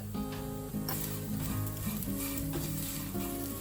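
Spices with pepper powder and salt are stirred in a hot pan for chicken liver roast, a continuous sizzle and scraping stir heard over soft background music.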